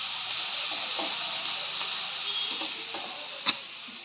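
Ingredients for soya chunks fried rice sizzle in a pan, a steady bright hiss of frying with a few faint clinks and a brief sharper tap near the end.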